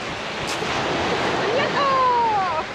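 Sea waves wash onto a beach at the Alushta resort, a steady broad rush of surf mixed with wind buffeting the microphone, with a few thin whistling tones near the end.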